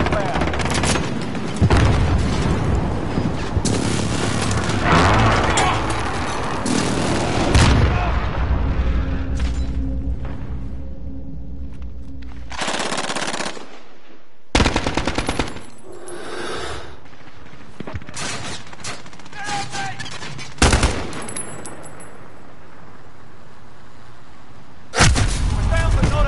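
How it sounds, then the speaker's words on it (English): Explosions and gunfire from a PS4 shooter game rumble in heavy, overlapping bursts, with several sharp loud blasts standing out near the end as the precision airstrike lands. "Be advised, friendly precision airstrike inbound."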